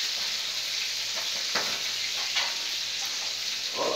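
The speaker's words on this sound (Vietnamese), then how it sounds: "Đây gia vị vừa vào cá kẹp và nướng." Fish clamped in a wire grill and roasting over charcoal, a steady close sizzle and hiss with faint crackles and pops throughout.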